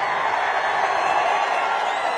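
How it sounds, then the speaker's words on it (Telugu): A political rally crowd applauding and cheering for Chief Minister Chandrababu, a dense, steady wash of clapping that holds at an even loudness without a break. "గట్టిగా చప్పట్లు కొట్టి హర్షాన్ని,"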